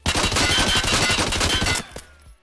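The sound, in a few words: gunfire from a weapon in the video game Escape From Tarkov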